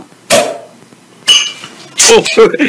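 Glasses of San Miguel beer clink together in a toast, with three sharp, close clinks spaced about a second apart and voices mixed in around them.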